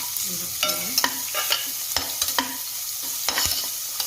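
Garlic, ginger and curry leaf paste fries in a pan, giving a steady sizzle broken by repeated sharp scraping strokes of stirring, close and fairly loud.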